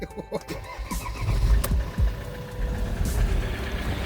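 An idling Ford Transit Connect engine heard up close, with a light irregular rattling and knocking from a loose crankshaft pulley over its low rumble, plus a couple of brief clanks.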